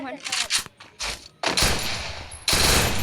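Gunfire bursts in the Free Fire mobile shooter game, several loud broadband volleys in quick succession with a sustained burst near the end, heard with game sounds and no clear talk.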